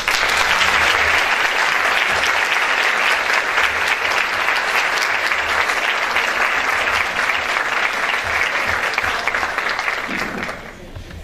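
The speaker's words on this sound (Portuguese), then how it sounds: "Uma salva de palmas." A crowd applauds steadily and loudly at a Catholic lecture evening, dense clapping sustained for about ten seconds before quickly dying away.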